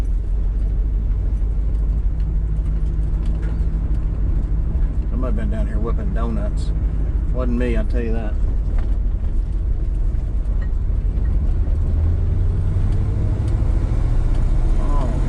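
Car with a newly installed Holley carburetor driving down a road: a steady, heavy low engine and road rumble runs throughout, rising slightly near the end, while someone talks over it.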